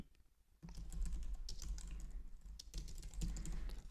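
Steady, fairly quiet typing on a computer keyboard while a page name is entered in a web app, a run of close key taps with no speech.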